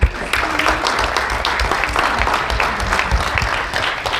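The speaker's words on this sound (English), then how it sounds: "Everybody give one more round of applause for KHEG." An audience at a festival event applauds, dense steady clapping that holds at full loudness for the whole stretch with no talk over it.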